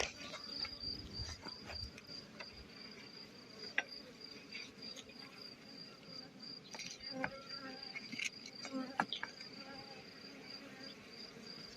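A low, steady buzzing of many honeybees at beehives hums faintly throughout, with occasional clicks and brief knocks close by.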